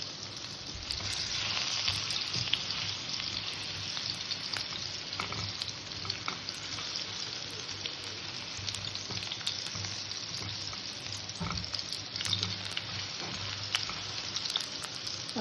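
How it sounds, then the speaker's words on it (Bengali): Potato pieces frying in hot oil in a kitchen pan give a steady, soft sizzle with crackling pops and occasional stirring scrapes, continuous throughout and fairly quiet. "তেলের মধ্যে আলু ভেজে নেব"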